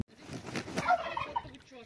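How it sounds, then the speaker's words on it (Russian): An agitated goose calls in rapid harsh gobbling honks, close and moderately loud, in a short continuous burst. "Какая-то бешеная гусыня."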